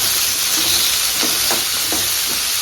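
Curry leaves, onion and tomato sautéing in a pan for a mutton curry, a steady close hiss of frying with a few scraping stirs near the end.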